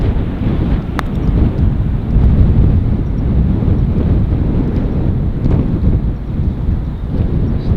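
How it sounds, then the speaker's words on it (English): Steady wind buffets the microphone on an open golf course, a continuous low roaring rumble with gusty swells that stays loud throughout with no voices. "It's really difficult to judge the pace sometimes when it's windy like it is today"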